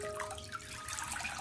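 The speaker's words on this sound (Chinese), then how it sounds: "我们倒入大量的清水，再次给它清洗一下" Youmai lettuce leaves are rinsed by hand in a basin of water, making soft, continuous swishing and splashing close by with no voices.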